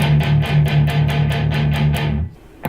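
Short, choppy palm-muted guitar notes picked in a steady rhythm, each one damped and thudding, stopping abruptly near the end.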